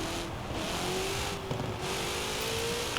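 A 1966 Ford GT40 Mk II Le Mans race car in Forza Horizon 4, its engine droning steadily with a slowly rising pitch as it accelerates, loud and continuous.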